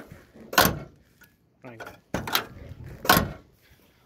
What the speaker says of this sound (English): look how nice this door closes